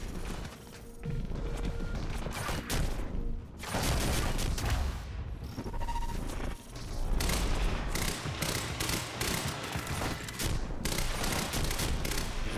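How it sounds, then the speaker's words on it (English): Dense, continuous video game gunfire aimed at an enemy, loud sustained bursts of shots and crashing impacts with brief dips, rolling on without pause for the whole stretch. "Me just shooting at him doesn't seem to do anything."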